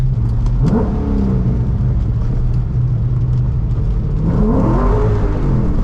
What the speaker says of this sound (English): I feel the LS sound and the vibrations and the energy of a V8